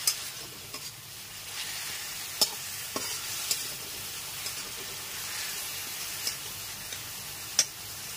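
A paste of onion, ginger, garlic and green chilli being stirred and fried over a medium gas flame, a soft, steady sizzle broken by a few sharp spoon taps against the pan, quiet and close, with no talking.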